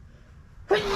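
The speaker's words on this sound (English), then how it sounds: "excuse me, sneezing." A single loud sneeze bursts out close by after a stretch of near silence, sharp and breathy, then trails off.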